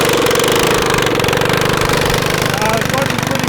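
A street kart's small engine runs rough on a dirt track with a failing clutch, a loud, continuous, uneven mechanical drone with a knocking pulse that holds steady through the clip.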